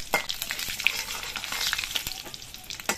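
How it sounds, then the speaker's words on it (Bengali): Dried red chili and panch phoron spices crackle and sizzle in hot oil, a steady broadband fizz with scattered sharp pops and a few louder spits near the start and end, close and alone with no voices. "এবার এই তেলের মধ্যে দিয়ে দিচ্ছি 1টি শুকনো লঙ্কা আর একটু বেশি করে 5 ফোড়ন"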